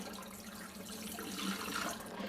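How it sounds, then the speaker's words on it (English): Water drains through the straining lid of a glass sprouting jar holding sprouting seeds, a steady close splashing trickle running alone for a couple of seconds and swelling slightly toward the end. "you're going to take your jar with your straining lid on it, and you're just going to drain the water off"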